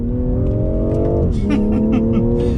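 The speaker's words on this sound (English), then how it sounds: "It actually sounds pretty good with that 3-liter turbocharged 6-cylinder." A BMW M340i's 3-liter turbocharged six-cylinder engine hums steadily at idle, then its pitch dips and settles into a deep, throaty drone, with faint crackles above.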